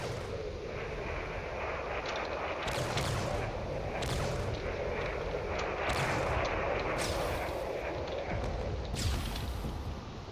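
Heavy naval gunfire from a battleship shelling an enemy ship in the video game Drone Wars, with a dense rumbling battle bed broken by several loud, sharp booming shots at irregular intervals.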